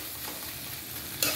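Leftover chapati and egg kotthu parotta being stir-fried in plenty of oil: a continuous close sizzle with scraping stirs, ending in a brief louder burst.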